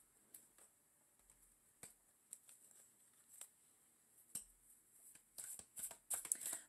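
Tarot cards being shuffled and drawn, soft close flicks and taps scattered irregularly over a quiet background, growing into a quicker cluster near the end.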